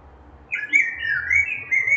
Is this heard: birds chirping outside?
yes